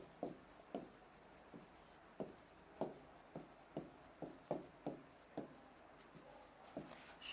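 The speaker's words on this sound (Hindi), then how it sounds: "जैसे मैं उदाहरण लिख रहा हूं यहां पर" Chalk or marker strokes on a board as a teacher writes out an example sentence, a steady series of short scratchy taps and rubs about twice a second, fairly close and alone.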